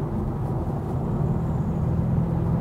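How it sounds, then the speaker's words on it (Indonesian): A BMW 430i Coupe M Sport Pro in sport mode, its engine a steady, close, low rumbling drone heard from inside the car at a constant level with no talking. "di mode sport ini suara mesinnya kerasa lebih galak"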